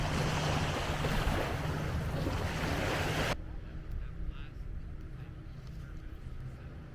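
Waves break on the beach in front of Fort Clinch, Florida, producing loud broadband surf and wind rush for about three seconds before cutting to quieter, softer surf with faint wind.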